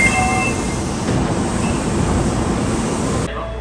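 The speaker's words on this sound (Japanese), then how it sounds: "電車がやってきました。" An Osaka Metro Imazatosuji Line four-car train pulls into Imazato Station underground with a loud, steady roar of wheels and motors that fills the platform, then cuts off abruptly.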